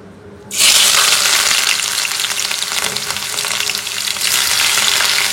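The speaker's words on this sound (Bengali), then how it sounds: "সবার প্রথম যে স্টেপ সেটা হচ্ছে পেঁয়াজ ভাজতে দেওয়া" Onions are dropped into hot oil in a pan for pulao and burst into a loud, close sizzle that stays dense and steady after the sudden start.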